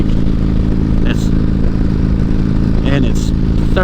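Motorcycle engine held at a steady cruise near 70 mph on a country road, a loud continuous rumbling drone with wind roar throughout and no change in pace.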